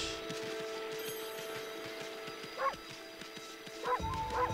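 In the Okami game a dog gives a few short, high yips and barks, the first alone and a closely spaced pair near the end, set over soft background music.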